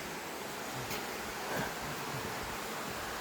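Waterfalls pour in the distance, a faint, even wash of rushing water that stays steady throughout with no voices.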